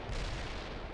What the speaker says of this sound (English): Oh, it's the freaking tanks shooting over here.